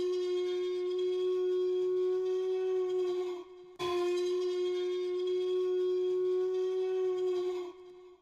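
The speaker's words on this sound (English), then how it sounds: "very short elephant horn burst, which I've stretched out and processed to sound like this." A very short elephant trumpet burst, stretched out and processed with a large jungle reverb, EQ and slap delay, becomes a loud, sustained tonal drone with a brief drop-out near the middle before swelling back. No voices are present.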